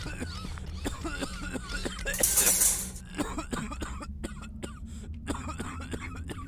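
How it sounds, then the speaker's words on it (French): Repeated coughing and throat-clearing fits, close and moderately loud, with short bursts spread across the clip and some voice sounds mixed in. "Tonton, pourquoi tu tousses?"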